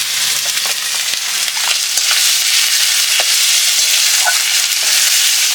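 Garlic and onion sizzling steadily in hot oil in a pan while cooking a lote fish curry, a close, continuous frying hiss broken by occasional stirring clicks, with no talking.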